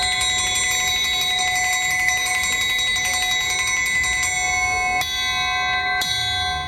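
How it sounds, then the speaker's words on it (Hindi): A bright electric railway crossing bell rings continuously with a rapid metallic clang, loud and close, sustaining for several seconds before a couple of sharp strikes. "गाड़ी की आमद की इत्तला मिलने पर घंटी बजाई जाती है।"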